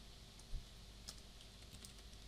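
Computer keyboard keys tapped while entering navigation bar code for a Blogger website, a few faint, sparse clicks against a quiet, steady background hiss.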